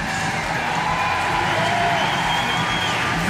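A home crowd at the Paris 2024 canoe slalom C1 event roars in a steady, dense wash of cheering and applause heard from a distance, with no break across the moment.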